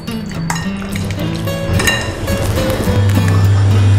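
A spoon clinks and scrapes against a bowl as chicken pieces are stirred through a spiced lemon marinade, with repeated close metallic taps and wet mixing sounds.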